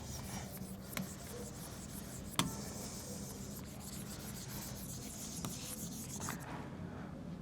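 A pen scratches quietly across paper while writing out a Class 10 trigonometry solution, with soft continuous strokes and a few sharp ticks of the pen landing.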